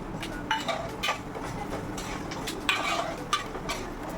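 Urad dal and coriander seeds roasting in a pan for curry leaf powder, heard as soft repeated stirring scrapes and light rattles of the grains, close but quiet and without speech.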